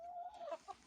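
Chickens and chicks in a coop give a drawn-out call followed by a couple of quick, faint clucks, close by and quiet with no talk.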